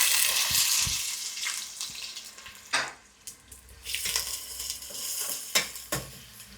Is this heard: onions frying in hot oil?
yes